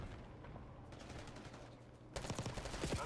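Rapid automatic gunfire in the Call of Duty Black Ops 6 video game, quieter and more distant at first, then bursting into loud, dense, close-range volleys of shots for the final second.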